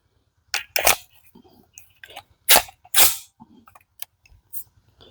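A Davinci DG-9 airsoft gun fires a few sharp, close shots, with separate cracks spread across several seconds among quieter mechanical clicks.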